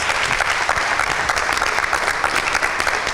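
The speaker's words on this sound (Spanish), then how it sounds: "90, respuesta correcta. Fuertes aplausos." Steady, dense audience applause fills the whole stretch after a correct answer in a Bible quiz show, loud and continuous with no talk over it.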